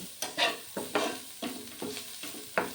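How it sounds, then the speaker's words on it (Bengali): Green chillies frying in a pan with a pinch of turmeric, a spatula scraping and stirring in about seven quick strokes over a soft, steady sizzle, close and moderately loud, with no talking. "কাঁচা লঙ্কা খুব ভালো করে ফ্রাই করে নেব"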